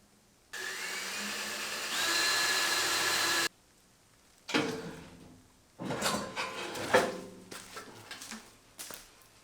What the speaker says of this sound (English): go ahead and start drilling through there.